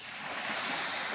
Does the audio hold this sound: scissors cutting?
no